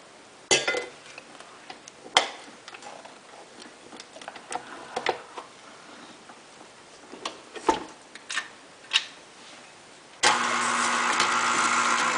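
An electric mixer creams cookie dough, starting with a few scattered clicks and taps, then running as a steady, even whir near the end.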